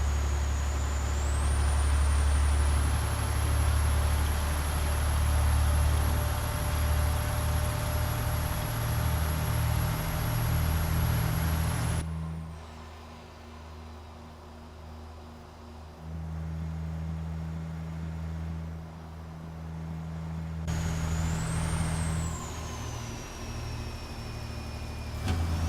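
Steady drone of a truck engine in American Truck Simulator, hauling a heavy load in an Argosy, holding a constant note, with a high whine that rises and falls and a drop in level midway before the engine builds again.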